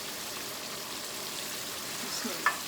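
Chicken curry with added yogurt sizzles on high heat in a pan, a constant close hiss with a single small clink near the end.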